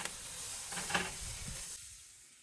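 Blue cheese and bacon burgers sizzle on a Weber Summit Kamado grill, a steady close hiss with a few brief clatters as they are turned, fading quieter near the end.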